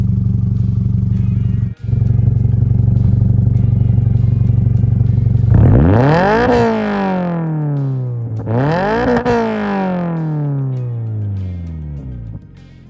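A 2022-or-later Subaru BRZ or Toyota GR86 with a titanium exhaust idles steadily and loudly, then two sharp revs climb high, near 100 dB, and slowly fall away, with a brief click early on.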